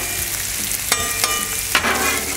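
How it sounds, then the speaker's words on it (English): Precooked sausage sears on a hot Blackstone griddle with a steady close sizzle, broken by three sharp spatula scrapes and taps as the links are worked across the flat top. "And just look how it sears that sausage"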